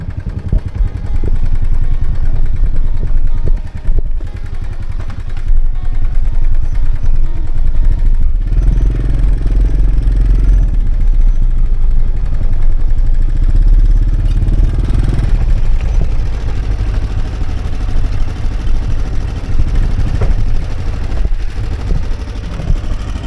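A motorcycle engine labors steadily uphill on a rural village road in rainy-season Laos, a loud, continuous rough drone with clattering mechanical texture and brief dips in throttle, heard up close throughout.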